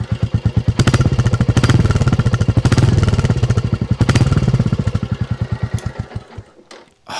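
A Royal Enfield Classic 350 single-cylinder motorcycle with standard exhaust revs up several times, its loud, throbbing thump rising and falling before cutting out near the end.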